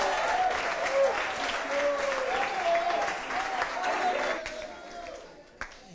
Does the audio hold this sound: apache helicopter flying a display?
no